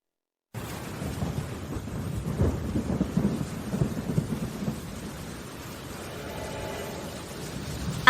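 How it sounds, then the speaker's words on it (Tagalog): Heavy rain pours steadily in a thunderstorm, a dense continuous roar with low rumbling swells, fairly loud and unbroken from start to end, no voices. "Lalong lumalakas ang ulan."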